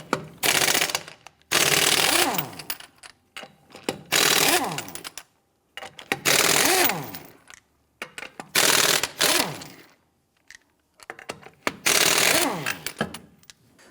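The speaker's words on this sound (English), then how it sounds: "Using your 21mm socket, loosen and remove the lug nuts." Impact wrench loosening and removing the lug nuts from the rear wheel of a 1992-1996 Toyota Camry with a 21mm socket: six loud, close bursts of rapid hammering, each one to two seconds long, separated by short pauses.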